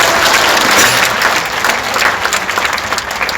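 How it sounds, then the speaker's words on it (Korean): A close, loud burst of applause from a congregation at a pastor's special lecture, dense clapping that holds steady for a few seconds without anyone speaking. "한번 여러분들 위해서 한번 큰 격려의 박수 한번 하실까요?"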